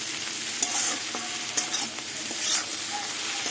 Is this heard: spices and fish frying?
yes